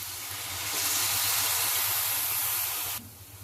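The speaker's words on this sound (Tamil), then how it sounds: "2 டேபிள் ஸ்பூன் வெள்ளை தண்ணியை இதில் விட்டுருக்கேன்" Two tablespoons of rice-rinsing water hit a hot pan of banana stem stir-fry, setting off a loud, steady hiss of sizzling steam that holds for about three seconds and then drops away sharply.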